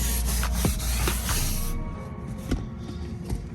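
McKee's 37 leather shampoo is scrubbed into a car's leather interior with a brush, a close, steady rasping rub in repeated strokes that eases and softens partway through, with no voices.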